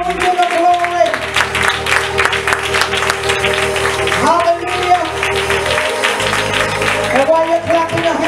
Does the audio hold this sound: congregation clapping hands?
yes